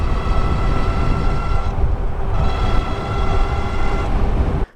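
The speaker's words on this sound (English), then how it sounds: "I can't get over how nice this motor sounds" A Tuttio ICT electric bike motor whirs steadily while riding down a tight road, loud and close with heavy wind rumble, ending abruptly.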